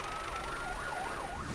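Wailing emergency vehicle siren at a staged rescue exercise for a construction-vehicle crush accident in Dubai, its pitch sweeping up and down steadily through the clip over a constant background rumble, with no talking.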